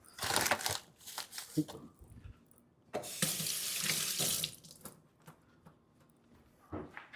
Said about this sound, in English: Wash your hand if you need to, which I will.